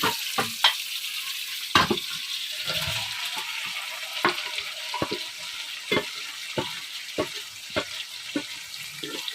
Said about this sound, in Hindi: इसे अच्छे से भून लेते हैं।